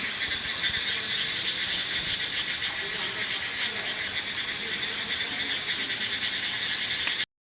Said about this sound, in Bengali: ঝিঝি পোকার একটা ডাক।